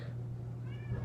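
A female house cat meows indoors, wanting to be let outside. The short, faint cry sits over a steady low hum with no voices.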